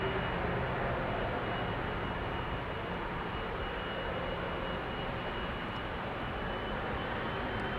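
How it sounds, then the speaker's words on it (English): A KLM Boeing 777-200, a 21-year-old jet, departs Amsterdam Schiphol with a steady, broad engine roar that holds at an even level throughout, distant-to-moderate and without speech. "And this is KLM flight 661 to Houston in Texas. 777-200 PHBQF, 21 years old, first flight March 2004."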